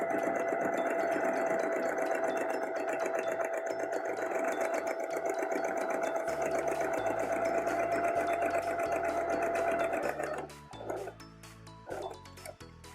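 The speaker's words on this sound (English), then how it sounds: "head to the sewing machine and sew a line all the way around 5/8 of an inch away from the edge" A home sewing machine stitches a dress skirt hem with a steady, continuous motor whir lasting about ten seconds, then stops and restarts in short bursts; no one speaks.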